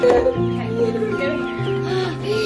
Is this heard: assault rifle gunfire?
no